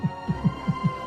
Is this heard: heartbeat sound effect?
yes